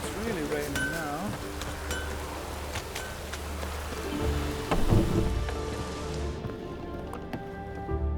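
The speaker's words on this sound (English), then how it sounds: "It's really raining now." Rain falling in The Witcher 3 video game, a steady hiss of drops under game music and voices, with a louder thump midway.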